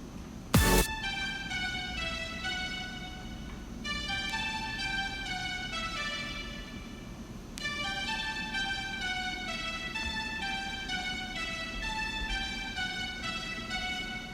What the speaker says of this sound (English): And then there's this additional pluck